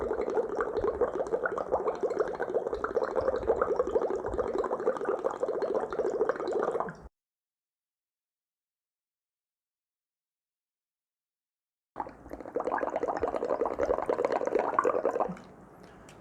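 Breath blown through a thin straw into a vessel of lime water makes steady, close bubbling that runs for about seven seconds, stops during a long silence, then resumes for a few seconds more, with no voices present.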